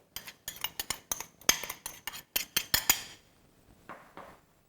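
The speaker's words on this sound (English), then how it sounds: "So by using a hand whisk, we're going to continue mixing it until it's well combined." A hand whisk mixes plain flour, tapioca flour and sugar in a bowl, producing a quick run of sharp metallic clinks and taps close up for about three seconds, then a few softer scrapes, with no voices.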